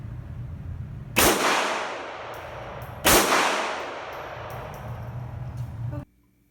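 Two loud Glock 44 pistol shots ring out at an indoor shooting range, fired about two seconds apart from the 5-yard line, each a sharp crack with a long reverberant decay over a steady background hum.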